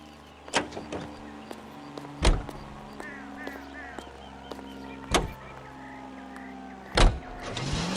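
Car door slams and an engine in the crime video game L.A. Noire: four sharp door thuds spaced through the clip over a steady engine hum and faint window-motor whir.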